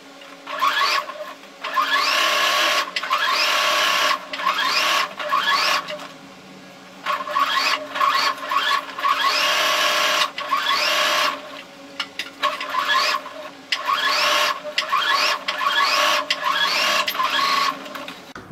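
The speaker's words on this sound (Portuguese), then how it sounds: "Agora eu vou costurar em volta toda sem deixar abertura," A domestic sewing machine stitches all the way around pieces of fabric for a fox-shaped plush toy, running in long steady bursts of rapid mechanical whirring separated by short pauses, close and loud.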